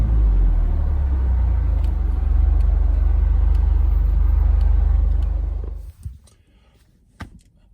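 A steady low engine rumble from an Audi TT driving through busy rush-hour traffic, heard from inside the car, fading out near the end with a couple of faint knocks afterward.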